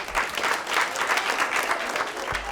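Audience applause at a Detroit youth leadership event fills the room as a steady, dense wash of many hands clapping, holding an even level throughout with no talk over it.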